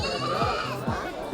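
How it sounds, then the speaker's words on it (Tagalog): Goats of mixed colours on a farm bleating in quick repeated calls, close and fairly loud, over a busy background of other farm noise. "Iba't ubang kulay ng mga kambing."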